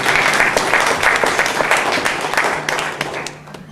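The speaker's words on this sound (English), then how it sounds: "round of applause for that" A crowd claps in steady applause, loud and close, gradually thinning toward the end, at a Green Party event in British Columbia.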